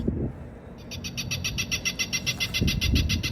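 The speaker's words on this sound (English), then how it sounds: "We got this bird be gone, making falcon or whatever you want to call it noises." A bird deterrent device on a rooftop HVAC unit gives off a rapid, evenly pulsed series of high electronic falcon-like calls, repeating steadily over a low rumble of machinery.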